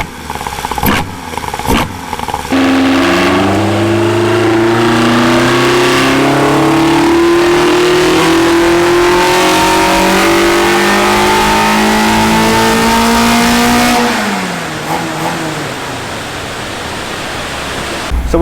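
A fully worked Toyota AE86 4AGE/7AGE engine on a dyno pull, loud and sustained, climbing steadily in pitch through the revs before backing off, with a few short blips at the start.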